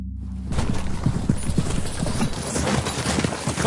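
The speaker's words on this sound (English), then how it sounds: "Caught up with the horses, sir." Horses' hooves clip-clopping as a radio drama sound effect, a steady run of hoofbeats that starts abruptly after a brief silence and continues at an even pace, fairly close and without talk.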